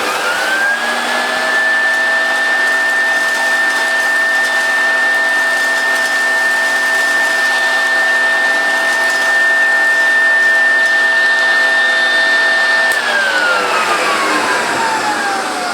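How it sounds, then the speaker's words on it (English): A Hoover Dirtsearcher Junior upright vacuum cleaner drones loudly and steadily with a high motor whine while sucking up biscuit pieces, then winds down as the pitch falls near the end. "you hear it rattle up the hose, then you hear it explode on the fan, then you hear it go up and you can hear it tinkling into the bag"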